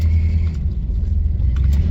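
A 1987 Chevy Squarebody pickup rolls along with a loud, steady low engine rumble close by, the motor droning evenly with no break.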